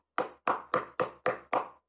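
Six evenly spaced sharp hand claps in a quick steady rhythm, crisp and close, with nothing else around them.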